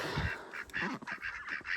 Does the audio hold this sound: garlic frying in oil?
no